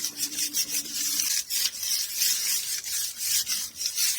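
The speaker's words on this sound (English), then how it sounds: "I'm going to burnish it from behind" Leather-look paper cut from Amazon packaging being burnished from behind, a steady close rasping rub in repeated strokes with a brief pause between passes.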